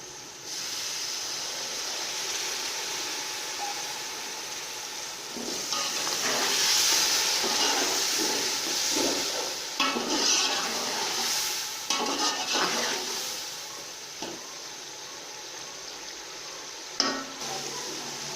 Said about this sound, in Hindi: इन्हें थोड़ा सा पानी लगाकर फ्राई करेंगे।